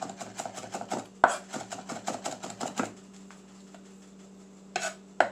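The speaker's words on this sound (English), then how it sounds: "Look at that, minced garlic." A knife minces garlic cloves on a board in quick, close, rhythmic chops, then pauses before two final taps. No one speaks.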